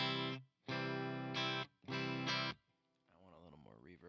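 Electric guitar chords with a reverb effect, played as several sustained strummed blocks separated by short gaps, each ringing fully before cutting off, followed by a brief stretch of wavering, warbling tone.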